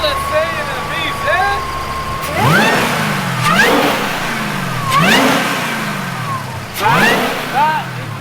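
An LSA V8 engine in a Holden VZ revs repeatedly in loud, rising blips separated by short idle gaps. The car is close by, and people talk over parts of it.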